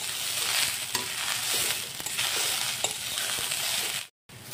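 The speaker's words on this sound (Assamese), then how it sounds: "মছলাখিনি আলু ভাজিৰ লগত ভালদৰে মিক্স কৰি দিলোঁ।" Spiced fried potato filling being stirred in a hot pan for spring rolls, with steady sizzling and scraping of the spoon, ending in a brief silence.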